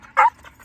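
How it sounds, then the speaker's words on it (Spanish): A dog gives a single short, sharp bark, close and loud, followed by faint softer yips. "Muy bonito perro."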